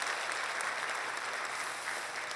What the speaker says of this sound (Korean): 큰 박수로 응원할까요?